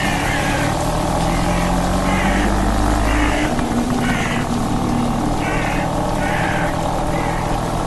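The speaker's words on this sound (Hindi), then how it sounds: "जो स्कूटर शॉन से स्टार्ट नहीं हो रही थी उसे इविल विलन ने स्टार्ट कर लिया" A scooter engine in a horror video game turns over and settles into a steady, droning idle, loud and continuous with a pulsing rhythm throughout.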